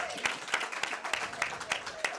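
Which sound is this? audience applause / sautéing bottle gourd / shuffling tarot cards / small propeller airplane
audience applause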